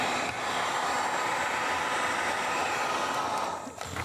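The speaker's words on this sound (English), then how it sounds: "So I got to rig up my heat gun here and get started with that" A heat gun warms the rear wheel hub of a Suzuki TS50, giving a loud, steady broadband blowing roar that holds evenly, then dips briefly near the end.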